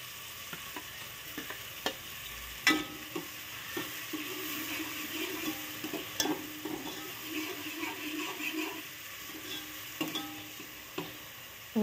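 Finely chopped onion frying in hot oil, a soft steady sizzle with intermittent scrapes and taps of a spoon stirring in the pan, fairly quiet.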